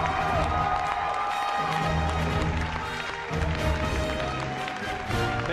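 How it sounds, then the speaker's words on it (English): Arena crowd at the Hearthstone HCT Summer finals applauds and cheers the champion Surrender, a steady loud wash of clapping and crowd noise with music running underneath throughout. "let's give one round of applause to our champion, Surrender."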